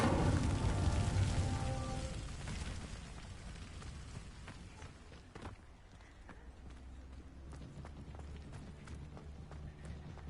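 A fire spell, Incendio, is cast in the Hogwarts Legacy video game: a loud, roaring burst of flame at the start fades over a couple of seconds into a steady, lower rushing background.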